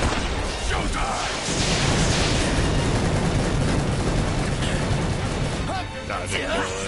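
Loud, continuous rumbling explosions fill a video game scene, with heavy blasts sustained over several seconds and voices talking underneath.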